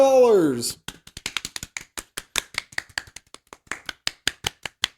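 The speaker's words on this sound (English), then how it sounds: "you'll hear the clapping dying down" A short voiced sound opens, then a group claps in an uneven rhythm that gradually thins out and slows, from the film Birdemic: Shock and Terror.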